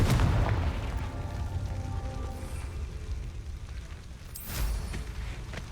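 A Confringo explosive spell blast in Hogwarts Legacy, a loud booming burst at the start fading into a rumbling tail, with a second softer burst near the end.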